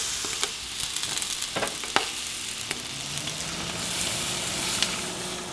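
Meat frying in a pan gives a steady close sizzle and crackle with a few sharper pops, and no one speaks over it.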